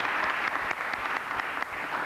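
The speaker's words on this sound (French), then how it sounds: "Allez, il mérite d'être encore applaudi plus fort que ça." Game show audience applauding a contestant who has just won: brisk, dense clapping from a studio crowd, loud and continuous, with a few sharper claps standing out in the steady patter.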